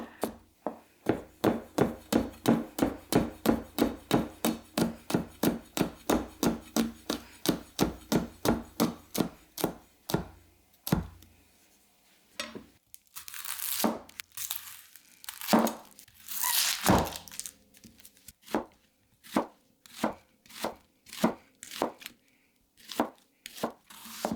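A honyaki gyuto knife chops through a huge onion on a board in a fast, even run of crisp, close thuds. After a short pause come slower, irregular cuts with crunchy slicing and rustling before a steady rhythm returns, with no talking.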